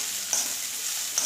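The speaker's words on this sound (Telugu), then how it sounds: "నూనెలో కొంచెం మగ్గనిస్తాం, ఒక 1 నిమిషం." Small bitter gourds frying in oil, a steady close hiss of sizzling with a couple of brief stirring scrapes, no voices.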